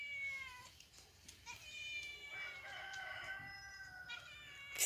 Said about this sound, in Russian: Все кричат, все кукарекают.